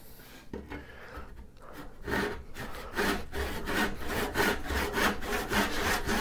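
Veritas hand saw cutting a groove into a piece of firewood, a steady run of close, rasping back-and-forth strokes that grow louder and more regular as the cut deepens.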